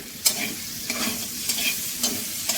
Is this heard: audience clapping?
no